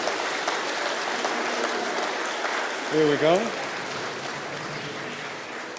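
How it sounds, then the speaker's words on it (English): Applause rings out for an award winner at a Pacific community awards ceremony, a sustained wash of clapping from a crowd; someone speaks briefly partway through. "A round of applause."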